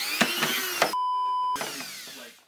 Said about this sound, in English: it's like kind of a little drill. I attach a saw blade to it.